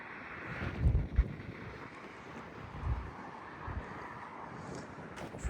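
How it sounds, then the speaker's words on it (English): Gusty wind buffets a microphone outdoors beside a parked 1988 Oldsmobile Cutlass Supreme Brougham Classic Last Edition, with low rumbling bursts rising and falling over a steady breezy hiss. "It's kind of windy where I'm at, so if you hear a lot of wind"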